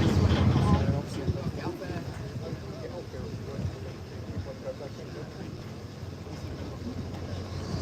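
A harbour tour boat on the water at Portsmouth Harbour, with steady engine and water noise buffeted by wind on the microphone and a voice talking over it throughout.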